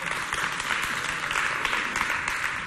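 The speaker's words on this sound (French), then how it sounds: "Applaudissez bien fort pour vous, s'il vous plaît." Children at a youth holiday debate event applaud themselves, a sustained, fairly dense round of clapping that holds steady from start to finish without talk.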